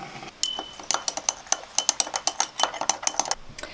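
A small glass beaker is stirred, giving quick bright clinks and taps in an uneven run of about two dozen sharp, close strikes with no talk.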